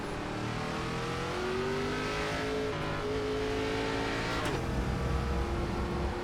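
A race car in the iRacing sim, an ARCA Menards Series stock car on the Indianapolis road course, drones steadily with rising engine pitch that dips briefly around a gear shift, sustained and fairly loud throughout.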